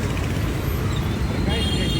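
Dense roadside traffic on a busy highway near a hostel, a steady broadband rumble of passing vehicles filling the short stretch, loud and close with no clear pauses.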